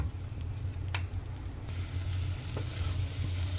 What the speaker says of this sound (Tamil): ஸோ ஒரு 2-3 நிமிஷம் இந்த மாதிரி காய் நல்லா இந்த எண்ணெயிலே வதக்கி விட்டுக்கோங்க.